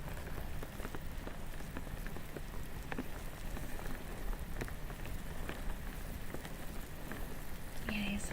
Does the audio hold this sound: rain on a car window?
yes